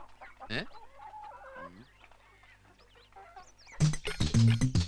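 Several hens cluck and chatter close by, with short squawks and warbling calls, growing louder and busier at the end.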